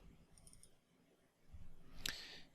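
A quick, crisp computer mouse double-click lands near the end, sharp and close against a quiet room.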